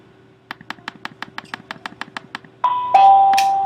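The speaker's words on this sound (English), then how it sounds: "And there's the bell." An electronic bell sounds with a rapid series of about a dozen evenly spaced short clicks or taps, followed by a louder sustained two-tone chime that rings out and slowly fades.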